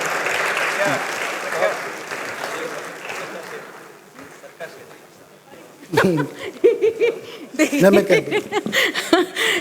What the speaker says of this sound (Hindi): एक बार ज़ोरदार तालियों से इस्तकबाल करें